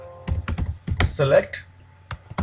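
Bursts of computer keyboard typing while text is entered into a MATLAB GUI, with clicky keystrokes in short clusters, close, and a voice speaking between and over them.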